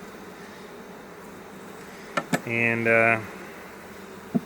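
Honeybees in a queenless hive give a loud, steady buzzing hum that swells for about a second in the middle, with a few short clicks around it and a word spoken briefly.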